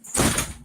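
A door opens or slides as someone heads outside from an indoor quilting room, a single short muffled burst of thumping and rattling, fairly close, with no talk over it.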